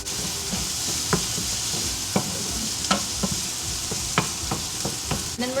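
Tomato paste sautéing in a hot pan for beef nachos: a continuous sizzling hiss up close, broken by sharp scrapes and taps as a utensil stirs and knocks the pan, with no talking.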